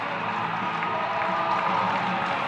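A modest stadium crowd cheers and claps during a 5K track race at an indoor meet, making a continuous roar at a distance with a commentator talking over it.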